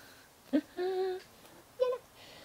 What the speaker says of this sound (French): mais viens là au lieu de miauler.